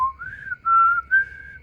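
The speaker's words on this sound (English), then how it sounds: "I know you were going for a whistle, but it was just like a breath." A person whistles a short stretch of the X-Files theme melody, close and clear, in three sustained tonal phrases with no talking.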